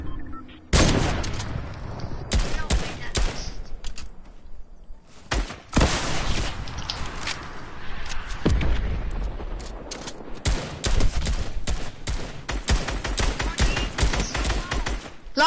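Sniper fire in a first-person shooter video game: loud, dense volleys of gunshots that crack and boom one after another almost without pause, with a player's voice partly buried under the barrage.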